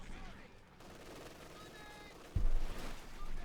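Battle noise from Company of Heroes 2, Wehrmacht against US Forces: a grenade blast and gunfire. A low rumble of combat runs throughout, then a heavy, close burst hits about two-thirds through, with loud rattling fire after it.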